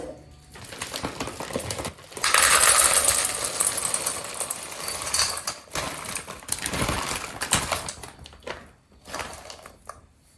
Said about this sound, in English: I'm just going to dispense it into this bowl before I measure.